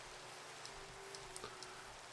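Steady rain falls in a blocky survival video game, a soft continuous hiss with faint scattered droplet ticks throughout and no voices.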